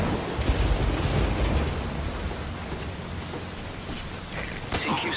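Heavy rain in the video game Metal Gear Solid V: Ground Zeroes, a loud, dense, continuous downpour with no letup, its roar fading slightly before a brief swell near the end.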